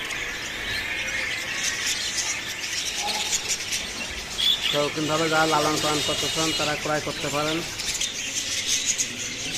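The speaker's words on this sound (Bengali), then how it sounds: "দেখতে পাচ্ছেন বাজারিকা পাখি" Caged budgerigars at a bird shop keep up a steady, high, twittering chatter, faintly in the background beneath someone speaking.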